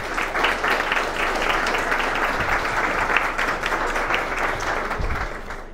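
Steady applause from an event crowd welcoming the governor at a breast cancer awareness walk, dense clapping sustained throughout at fairly close range without a break.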